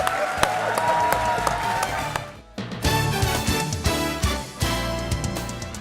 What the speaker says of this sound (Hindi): इसके लिए तो मैं ताली बजा रहा हूँ जी